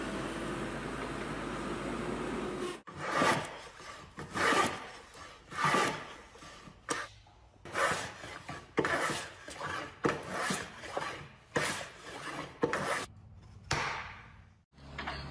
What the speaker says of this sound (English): Equipped with a large hydraulic cylinder, sharp cutting blades, and roller feed technology that firmly grips the trunk, the Feller Buncher operates safely.